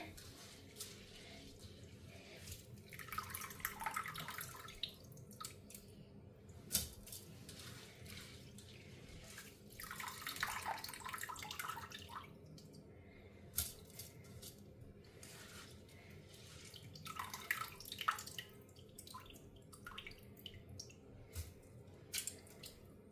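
Water from washed, soaked raw rice being drained off while preparing appam batter, heard as close, irregular splashing and trickling with small drips and squishy handling noises, no voices.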